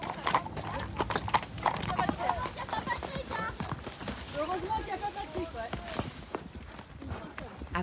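Hooves from several horses clop steadily along a rocky mountain trail during a guided riding excursion, with an occasional whinny, outdoor bustle and voices talking throughout.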